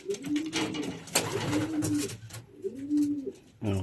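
Racing pigeons cooing in a loft, several soft, rolling coos repeated close by, with light rustling and faint thuds between the calls.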